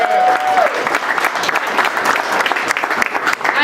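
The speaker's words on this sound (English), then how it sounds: "Give them a big round of applause" Audience applauding at the grand opening of a Comcast Studio Xfinity store in Washington DC, a steady burst of clapping from a gathered crowd lasting a few seconds.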